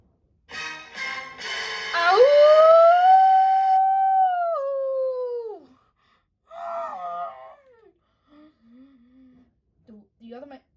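In a spoken audio story, a werewolf gives a long, loud, rising and falling howl that fades out, followed by a few short gasping and groaning vocal sounds, with no other background.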